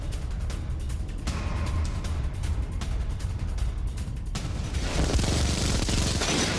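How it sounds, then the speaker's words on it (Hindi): Heavy gunfire on Ukrainian positions in the Russia-Ukraine war, a dense continuous rattle of shots and bursts that swells louder toward the end, with no talk. "यूक्रेनी पोजीशंस पर धुआंधार फायरिंग की जा रही है"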